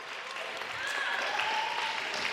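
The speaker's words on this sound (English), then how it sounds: "Round of applause." A short burst of audience applause during a talk, moderate and steady clapping at middle distance with no voices over it.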